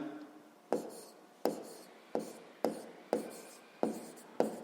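A pen writes math notes on paper, about eight regular scratching strokes, each with a sharp start that trails off, close and fairly quiet.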